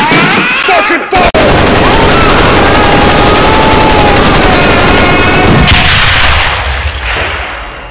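Sustained, dense gunfire in an SCP 049 Source Filmmaker animation, loud and continuous like heavy automatic weapons, with a brief cut near the start and a tail fading toward the end.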